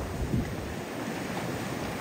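Ocean waves wash onto a beach in a steady, broad roar, mixed with gusty wind buffeting the microphone, with no voices.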